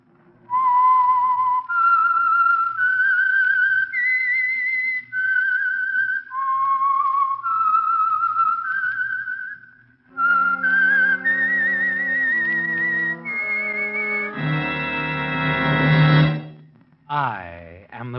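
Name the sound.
Signal Oil program identifying whistle tune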